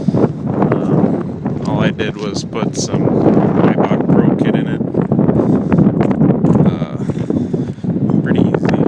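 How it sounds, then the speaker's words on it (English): Wind buffets an outdoor microphone steadily through the whole stretch while someone talks continuously about a lowered Infiniti G35S sedan, the gusty rumble sitting loud under and around his voice. "I apologize for the wind."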